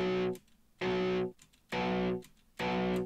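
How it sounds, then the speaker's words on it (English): Distorted power chords on an electric guitar, struck four times in a slow, even rhythm, each chord ringing briefly and then cut off into near silence. "And a power chord is this same thing without the middle note."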